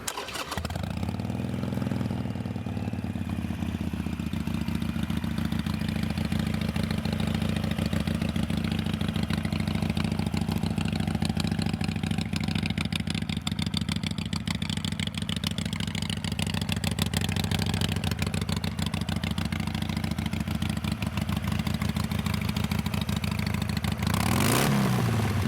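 A Harley-Davidson Sportster 883 Iron XL883N motorcycle starts, then idles steadily with a loud, close, continuous engine rumble for about twenty seconds before a brief rev near the end.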